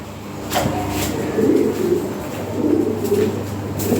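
A pair of black Lahore pigeons coo in soft, low, rolling calls that repeat steadily and close by, with a constant murmur of more birds behind them.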